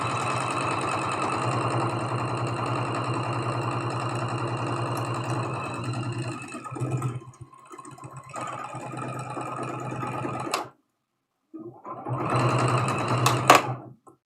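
A sewing machine runs steadily for several seconds stitching quilt block seams, loud and close with a low whirring drone, then stops and starts in short bursts with a brief silence before a final run.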